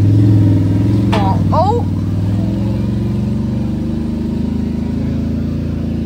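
An off-road wrecker truck in four-wheel drive holds a steady, loud engine drone throughout with a brief rise early on, while a voice briefly exclaims over it.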